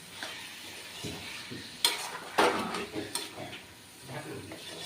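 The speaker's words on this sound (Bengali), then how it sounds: "এখন ভালো করে নাড়িয়ে কষতে দিতে হবে। আস্তে আস্তে জাল দিয়ে চিকেনটা আর আলুটাকে কষাতে হবে।" Chicken and potatoes fry gently in a pan, with soft sizzling and a handful of louder scraping strokes as a spatula stirs and turns the pieces.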